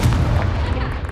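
A Confringo fire spell blasts in Hogwarts Legacy, a single deep booming burst with rumbling low end that fills the short moment, loud and close, with game sound around it.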